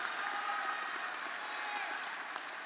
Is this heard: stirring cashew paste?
no